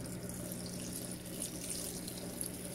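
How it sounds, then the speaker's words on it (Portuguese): Panasonic Ag+ 16 kg washing machine with its pump running and pushing water, a continuous close rush of flowing water over a low steady mechanical hum, no voices. "ela tá com a bomba ligada e tá jogando água"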